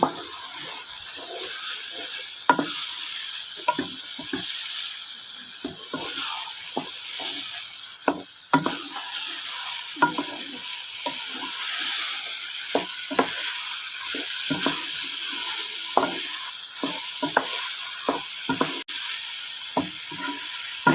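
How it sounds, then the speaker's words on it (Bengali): Washed rice fries in a pan for hotel-style bhuna khichuri, a spoon scraping and stirring in frequent irregular strokes over a constant loud sizzle. "এখন আমি চাউলটাকে ভালোভাবে নেড়ে চেড়ে কষিয়ে নেব"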